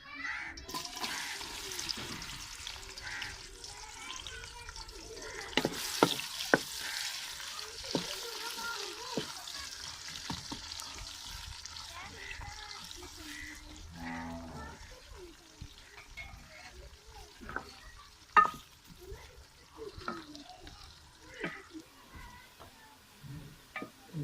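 Onions frying in hot oil in a karahi give a soft, steady sizzle, with scattered clinks and stirring scrapes from the pan and a faint background hiss.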